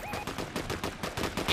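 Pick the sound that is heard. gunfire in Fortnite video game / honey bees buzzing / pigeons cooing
gunfire in Fortnite video game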